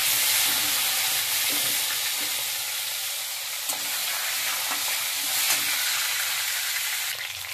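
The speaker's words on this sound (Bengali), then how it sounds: "মাছগুলো সব ভাজা হয়ে গেছে" Stinging catfish fry in hot oil in a kadai, a loud, steady crackling sizzle that runs without a break from start to finish.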